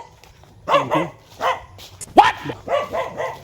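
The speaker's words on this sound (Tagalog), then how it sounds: "May aso pa." Dog at a calamansi farm in Mindanao barking in several short close bursts, with a brief spoken word between them.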